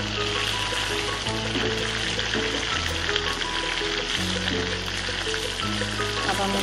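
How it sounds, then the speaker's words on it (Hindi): Chicken pieces frying in oil in a karahi until golden, a steady dense sizzle with a low bubbling hiss running unbroken throughout, close and moderately loud, with no talking. "चिकन को हल्का सा मैं गोल्डन करूंगी, काफ़ी हद तक ही हो गई है रेडी।"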